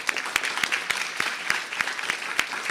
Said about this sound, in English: Let's applaud Joseph again.